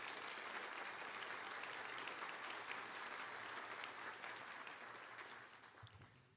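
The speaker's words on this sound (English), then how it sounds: "So please give them a round of applause." Audience applause fills a class night ceremony at a high school, a dense steady wash of many hands clapping that holds strong for several seconds before gradually thinning and fading toward the end.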